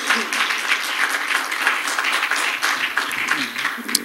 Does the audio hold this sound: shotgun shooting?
no